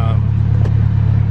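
An AWD Honda Civic engine idles steadily around 1,000 RPM, a close, even low rumble that runs on without a break, with a faint voice briefly over it.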